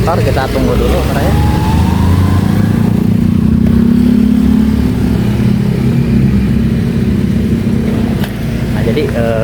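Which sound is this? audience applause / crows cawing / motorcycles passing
motorcycles passing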